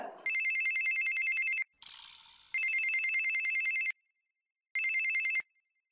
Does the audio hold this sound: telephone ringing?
yes